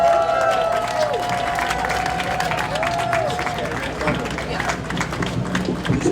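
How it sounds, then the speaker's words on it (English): A crowd at an anti-war rally applauds and cheers, with clapping and scattered whistles under a murmur of voices, fairly close and steady throughout. "you'll want to keep clapping as we introduce Roger Waters"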